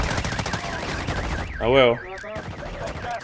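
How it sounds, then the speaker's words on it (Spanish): Rapid automatic gunfire crackles in Warzone Mobile, a dense burst of shots up close with a wavering siren-like tone over it, and a short spoken exclamation breaks in partway through. "nos disparan, nos disparan"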